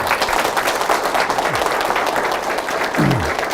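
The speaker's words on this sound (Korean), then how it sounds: "박수 부탁드립니다" Audience applause fills a Korean lecture hall as the chairman is introduced, a dense, steady wash of many hands clapping at close range, with no talk over it.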